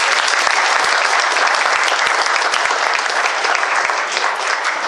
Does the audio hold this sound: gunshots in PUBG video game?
no